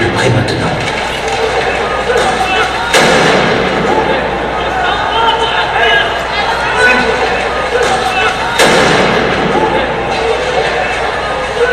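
A street protest crowd shouts and clamors nonstop, with two sharp, loud bangs from explosions cutting through the din several seconds apart.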